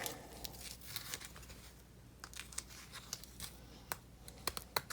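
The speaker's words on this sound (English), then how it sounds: "I'm just going to put my battery strap back in." Small plastic clicks and taps from a battery strap being fitted back into an Axial SCX24 RC crawler, soft intermittent handling sounds close by with no talking.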